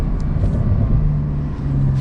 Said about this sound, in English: A few cracks in that exhaust,